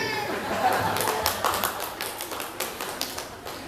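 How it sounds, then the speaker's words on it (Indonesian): A congregation claps during a Sunday church service, with scattered, irregular claps of moderate loudness over several seconds and a voice faintly present beneath them. "Tepuk tangan bagi yang mengerti."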